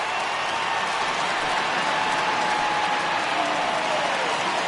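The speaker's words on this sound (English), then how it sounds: "So he receives a nice ovation from this home crowd, departing after surrendering just one earned run." Home crowd in MLB The Show 20 applauding and cheering a departing pitcher at an Orioles–Yankees game, a steady broad wash of clapping and crowd noise throughout, moderately loud and unbroken.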